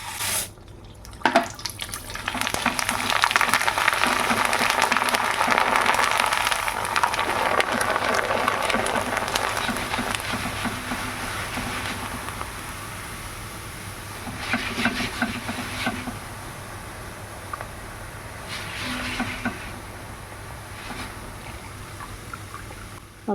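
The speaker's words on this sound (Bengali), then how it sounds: "তো বন্ধুরা এবার ভেজে নেব চাল।" Rice grains frying in oil in a pan make a steady, fairly loud sizzling hiss that swells early and then settles, with occasional stirring scrapes and a few brief louder patches.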